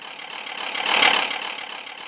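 Motorized Thomas the Tank Engine toy train running along its track, a thin buzzing whir that swells as it approaches and fades as it passes close by.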